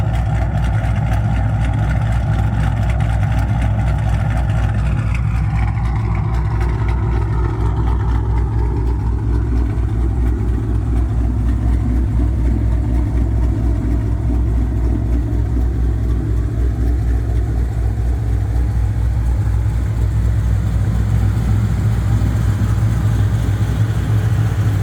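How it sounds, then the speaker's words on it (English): A 2015 Dodge Challenger RT with a shaker kit idles close by in a deep, steady rumble with a pulsing burble, loud and continuous throughout, no voices. "'15 Dodge Challenger RT with a shaker kit."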